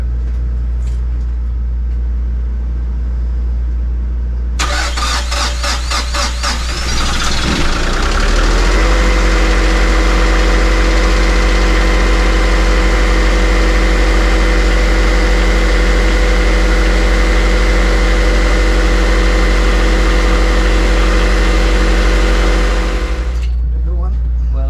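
After a fuel filter change, a Nordhavn 50 boat engine cranks for a few seconds, catches, and settles into a steady, loud idle rumble that runs for about fifteen seconds before shutting down.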